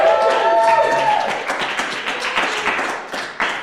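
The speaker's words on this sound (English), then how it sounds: "one more round of applause for Mr. Ryan Short, everybody" Audience applause for a comedian at a live comedy show, a dense crowd clapping loudly that slowly thins and fades over a few seconds, with faint voices mixed in.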